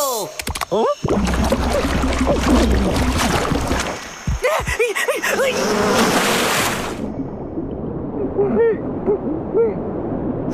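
Cartoon bees buzz in a Munki and Trunk episode, a swarm of synthetic droning and warbling tones mixed with hoot-like sound effects, loud at first and thinning out toward the end.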